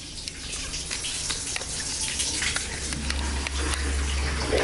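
Water runs steadily from a tap in Mexico City, a constant hiss with scattered small clicks and splashes, fairly quiet and close, with no talk.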